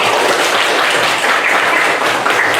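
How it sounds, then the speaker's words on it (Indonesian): Audience applause in an indoor gathering, dense and steady throughout, a continuous wash of many hands clapping at full strength with no breaks. "Terima kasih, tepuk tangan sekali lagi."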